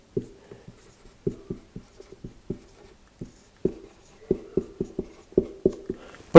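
Chalk or marker tapping and scratching on a classroom board during a geometry lecture, a series of short, distinct strokes in irregular bursts with quiet gaps between, close and clear with no talking over it.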